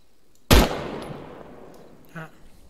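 A single loud gunshot in the video game Arma 3 rings out with a long echoing tail, followed about two seconds later by a fainter distant shot.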